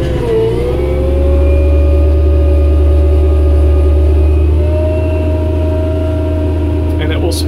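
A Tractobot robotic tractor's engine drones loudly and steadily close by while it spins to head east. A whining tone dips, then holds and gradually shifts over the low rumble.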